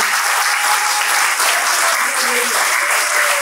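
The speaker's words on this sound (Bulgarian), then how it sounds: "Затова наистина заслужава аплодисменти." Loud, steady applause fills a restaurant hall at the Cake Art Bulgaria Awards 2023 ceremony, honouring a cake artist who won medals five times, with a dense sustained wash of clapping and faint voices mixed in.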